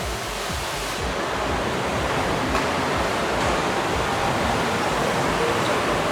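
Cool water cascading down a tiered run of five pools on a cruise ship deck, a loud, continuous roaring splash with no break across the whole stretch.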